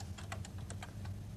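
Typing on a microcomputer keyboard: a quick run of about ten soft, close key clicks in an uneven rhythm over a low steady hum, no talking.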